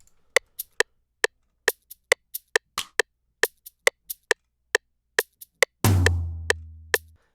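Short, sharp percussion hits from a drum loop built in FL Studio tick along in a steady rhythm with a metronome, ending in a deeper sustained boom near the end, clean and alone.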